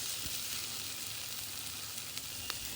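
Frozen green peas fry in a pan for Thai pineapple fried rice, giving a steady, even sizzle throughout with a few faint clicks, and no voices.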